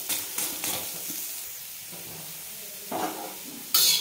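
Chopped onion fries in a little oil, a close hissing sizzle that swells in short bursts as it is stirred, with scraping and a louder burst at the end.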